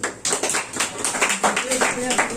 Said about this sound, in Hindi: तो दीपेश जी के लिए ताली बजा